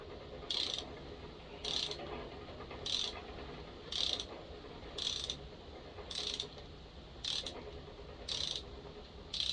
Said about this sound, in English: when it starts cutting the threads for the insert, don't go super hard